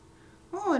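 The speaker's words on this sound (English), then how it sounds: "I don't know if you heard that, but Kiki meowed" A cat gives a single short meow, rising into a falling, drawn-out cry after a half-second of quiet room tone indoors.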